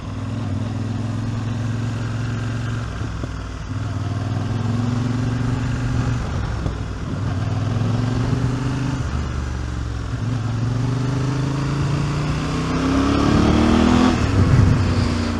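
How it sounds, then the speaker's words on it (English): A Voge 800 Rally motorcycle engine in second gear around a roundabout drones loudly and steadily, its pitch dipping and climbing as the throttle is rolled on and off repeatedly. It is heard from the rider's position with no talk. "I was deliberately going on and off the throttle there, halfway around the roundabout in second gear"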